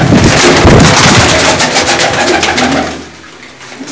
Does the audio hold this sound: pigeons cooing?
yes